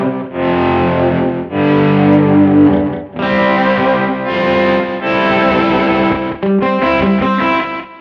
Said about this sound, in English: you'll hear the big guitar parts and swells coming in, which here's our guitar tone for today.